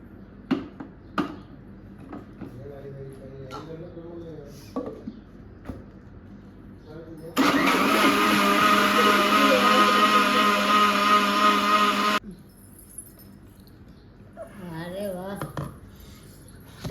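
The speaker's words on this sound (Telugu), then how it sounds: "సో ఇప్పుడు ఒకసారి మళ్ళీ ఒకసారి మిక్సీ పడదాం" A mixie blender whirs loudly for about five seconds, blending apple, banana, milk and sugar at home, with someone talking before and after the steady motor burst.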